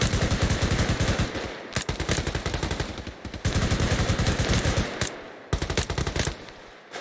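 Automatic gunfire in an Arma 3 squad attack battle drill crackles in loud, rapid bursts, with several sustained strings of shots separated by brief pauses.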